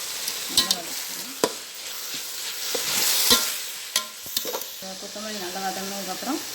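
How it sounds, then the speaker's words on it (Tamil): Tomato, mint leaves and coriander leaves are sautéed in a pot for beef biryani, with a few sharp spoon knocks and scrapes over a low sizzle, and a faint voice murmuring near the end. "நல்லா வதக்கணும்."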